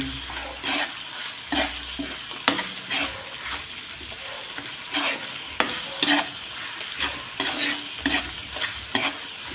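Shrimp paste (bagoong alamang) sautés in a pan for pinakbet, a steady close sizzle broken by repeated scraping strokes of a spatula stirring through the mixture.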